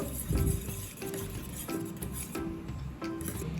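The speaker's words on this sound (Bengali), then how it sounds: "এবার ডিমের মধ্যে এই পেঁয়াজ লঙ্কাগুলো দিয়ে দিলাম, আবার একটু ভালো করে ফেটিয়ে নেব।" Eggs being beaten with chopped onion and chili in a bowl: repeated rhythmic clinks and scrapes, about five spaced strokes, sounding close and fairly quiet, with no talking.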